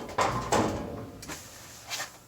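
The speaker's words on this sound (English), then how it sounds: "Pop the door off here." Metal door panel pulled off a Carrier two-stage gas furnace, two sharp clunks close together followed by lighter rattles and a final soft knock.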